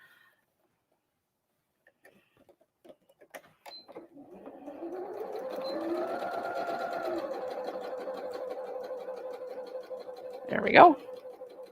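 A home sewing machine stitching fabric Christmas tree napkins, starting softly and settling into a steady whirring run for several seconds, with a brief louder clunk near the end and a voice speaking briefly.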